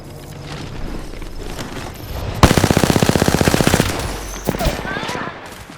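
Automatic gunfire in the battle royale game Apex Legends: a loud, rapid burst of evenly spaced shots lasting about a second and a half, set against ongoing game ambience, with a few scattered louder hits following.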